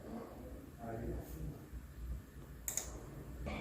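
Several sharp computer mouse clicks, made while working in engineering software, land sparsely over a few seconds beneath steady explanatory talk.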